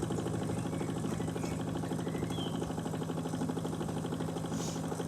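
A Wilesco D16 toy steam engine runs steadily, a quiet, even mechanical chuffing and whirring with a constant rhythm and no voices.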